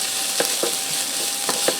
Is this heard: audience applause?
no